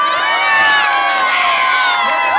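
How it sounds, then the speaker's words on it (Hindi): A crowd at a cricket tournament prize ceremony cheers and shouts loudly and continuously, a dense swell of many voices close by. "बहुत सारी तालियां"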